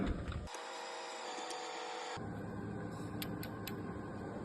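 A mechanical direct-injection Iveco diesel fuel injector being taken apart on a workshop bench, with a steady mechanical whir and tool noise, brief clicks and metallic ticks, close and continuous.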